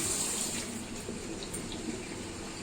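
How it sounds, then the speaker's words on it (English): Water sprays steadily from the shower-style nozzle of a brine shrimp filter net, a continuous close hiss with no pauses and nothing else heard. "this net comes with this kind of a water nozzle, which will come like a shower"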